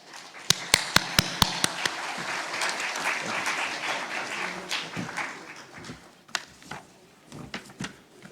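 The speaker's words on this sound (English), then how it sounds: "Please give a round of applause." A handful of sharp single claps opens, then fuller audience applause swells at an investment summit's opening ceremony before thinning out into scattered late claps.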